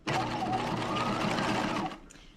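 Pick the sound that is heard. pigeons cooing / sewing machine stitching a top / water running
sewing machine stitching a top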